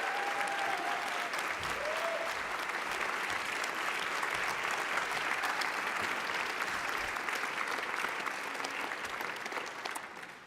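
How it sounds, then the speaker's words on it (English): Sustained audience applause at the Toronto Arts Foundation's Mayor's Arts Lunch, a steady wash of many hands clapping that fades slightly at the end. "She deserves a huge round of applause"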